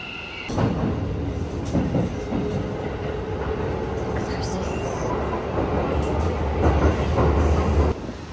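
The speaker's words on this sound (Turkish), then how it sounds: "Tren geliyor." A train rumbles into a station in Tokyo with rail clatter and screeching wheels, loud and close, with a brief quieter moment at the start and abrupt stop near the end.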